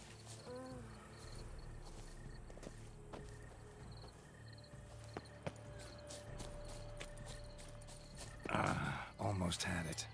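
Horse hooves clip-clopping at a walk in The Witcher 3 video game, steady footfalls over ambient insect chirps and game sounds, with a burst of louder scuffling near the end.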